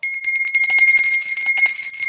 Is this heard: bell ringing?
yes